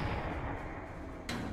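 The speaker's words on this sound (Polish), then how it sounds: "O kurde, i wybuch?" A short, loud booming blast with a broad roar, followed by a second burst, from an animated Minecraft scene.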